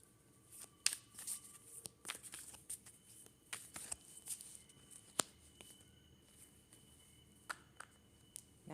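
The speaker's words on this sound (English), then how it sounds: "Now let's shuffle these cards again." Tarot cards being shuffled by hand, a soft papery patter of quick riffles and taps spread through a quiet room, close and faint, with no talking.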